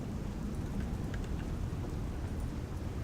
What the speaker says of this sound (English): I still hear rain.